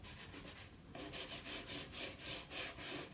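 Painted wood being sanded by hand to distress it: rhythmic back-and-forth rasping strokes, close and fairly quiet, with no talking.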